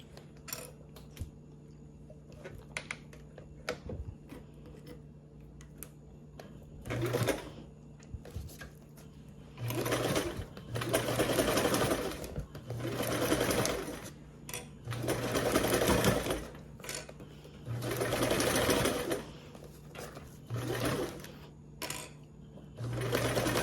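A sewing machine bastes fabric starting at the bias tape, running in several fast whirring bursts separated by pauses with small clicks and taps between stitching runs.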